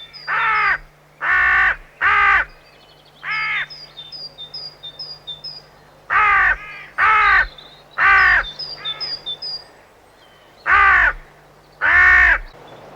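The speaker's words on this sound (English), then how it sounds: "Crows mob and pester him relentlessly to drive him from their territories." Crows mobbing a buzzard give loud, harsh caws in repeated bursts of two or three, with fainter calls between them, close and clear with no talking.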